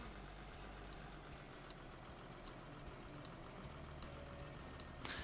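Tractor engine in the Farming Simulator 16 video game, a low, steady idling drone that runs unbroken and even, with a faint regular ticking and a short sharp click near the end.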